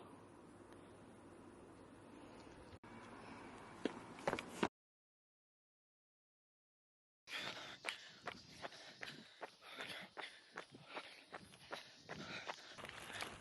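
Jogging footsteps while running outdoors, a faint rhythmic series of light impacts over steady background noise, broken by a short silent gap partway through.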